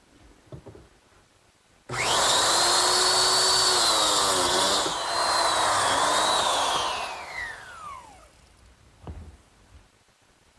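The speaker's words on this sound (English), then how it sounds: "that's to cut some biscuit slots in the bottom of this lower rail and at the very bottom edge of the side panel" A biscuit joiner cuts slots into a wooden lower rail and side panel edge, one loud, steady high-pitched whine lasting about six seconds, rising and then winding down, with quiet handling before and after.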